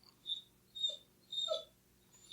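A dog whimpers softly in short, high whines, four brief cries spaced about half a second apart, faint and close with no talking.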